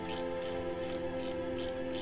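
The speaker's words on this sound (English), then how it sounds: "And now I can put in this final bolt" A ratchet tightens the final bolt on a Mk6 Golf R EA113 custom intake, clicking in a steady rhythm of about five short strokes over a low hum, fairly faint and close.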